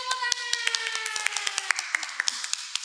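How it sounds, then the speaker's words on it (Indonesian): A small podcast audience welcomes a guest with a scattering of sharp, separate hand claps, about a dozen in an uneven rhythm, heard close over a faint tonal background. "Kita kasih tepuk tangan."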